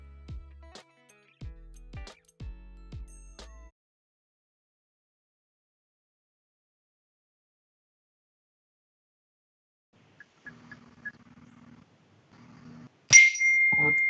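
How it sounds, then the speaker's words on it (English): A single bright phone notification ding rings out near the end, following a long quiet stretch broken only by a few soft taps and knocks. "This is your notification."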